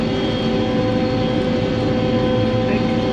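A self-propelled forage chopper works through hay with a steady, dense mechanical roar and engine hum, constant and close throughout.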